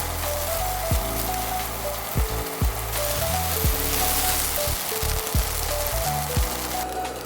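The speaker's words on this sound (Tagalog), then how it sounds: "Tara, magsimula tayo sa pagpiprito ng ating tofu." Tofu frying in hot oil in a pan for a Filipino stir-fried tofu and pork dish, a steady close sizzle and crackle running throughout beneath quiet background music, with no talk.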